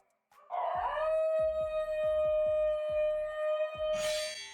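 A Basenji dog gives a sustained, wavering yodel-like howl, loud and close, with one long steady tone and a rougher burst near the end, no talk.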